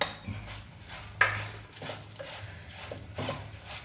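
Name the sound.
sesame seeds being added to hot oil in a clay pot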